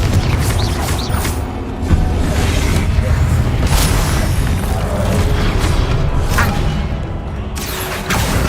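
Booming Confringo blasting-spell explosions in Hogwarts Legacy, several heavy bursts with whooshing tails over continuous combat noise, with a voice speaking briefly in between.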